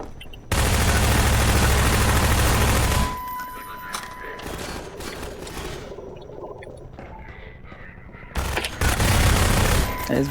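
A Half-Life 2 minigun fires in long sustained bursts, a dense roaring rattle for about two and a half seconds, then quieter clanks and mechanical noises, before a second loud burst near the end; brief speech may be mixed in.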